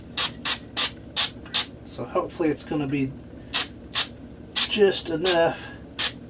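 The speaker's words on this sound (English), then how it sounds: "now I can proceed to spray my cleaner in there" An aerosol can of cleaner sprays into the mechanism of a vintage Coca-Cola clock in a rapid run of short, sharp hissing bursts. Someone talks briefly between them, and another cluster of sprays follows.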